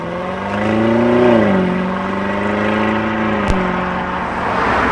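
Lamborghini Urus with a twin-turbo V8 engine, running steadily nearby with a rising rev around the first second, then settling into a smooth, even drone.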